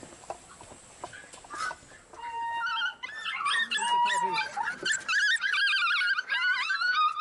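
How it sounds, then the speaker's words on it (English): Puppies in backyard pens whimper and yelp, building from sparse cries into a busy chorus of high whines and howls over the second half, with a person talking briefly near the start. "We've got some puppies back there."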